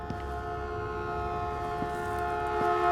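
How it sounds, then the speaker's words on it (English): A train passing in the Into the Radius video game, a steady droning tonal rumble with sustained horn-like pitches that grows slightly louder toward the end, with no talk. "I hear the train a-coming. It's coming around the tracks."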